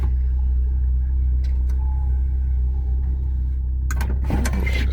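A Rover 220 Turbo car engine idling steadily with a deep, constant low rumble, close by, then a burst of clattering and knocking near the end, with no voices.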